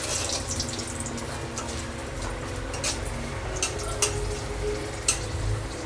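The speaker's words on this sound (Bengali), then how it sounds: "তেলটা গরম হয়ে গেছে, আমি তেজপাতা আর শুকনো লঙ্কাটা ফোড়ন দিয়ে দেব।" Bay leaf and dry red chilli hit hot oil in a pan for tempering, giving a soft, continuous sizzle with scattered crackles and pops throughout.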